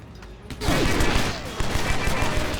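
Rapid, loud bursts of gunfire from shooting enemies in the action video game Stranglehold, a dense sustained fusillade that starts abruptly and rolls on with heavy low-end rattle.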